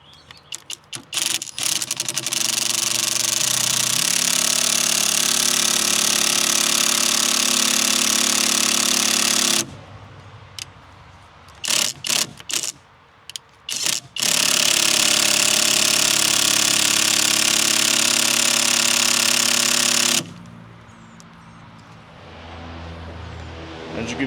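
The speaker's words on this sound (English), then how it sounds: "this side's a little more stubborn, so I put the impact in turbo mode" An impact wrench in turbo mode hammers at a stubborn bolt on a boat's SeaStar steering, with long loud bursts of rattling and short pauses between them, close up.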